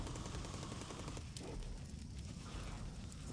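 Naval bombardment gunfire in the video game War in the Pacific, a dense rapid rattle of shots and booming blasts running continuously, loud and close throughout.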